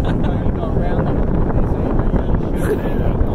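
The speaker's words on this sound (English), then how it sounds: "It's still really windy" Steady, loud wind buffets the microphone at a beach, a continuous broadband rush with gusty swells throughout, mixed with faint boat-like background noise.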